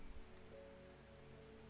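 Calm rain ambience from the video game Strange Horticulture, a faint, even patter of falling rain that stays low and steady, with a soft low hum beneath it.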